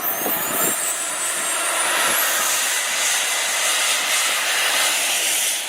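A radio-controlled T-33 model jet's turbine roars steadily and loudly throughout, a broad continuous whoosh with a faint rising whine, as at a flying field with no talking.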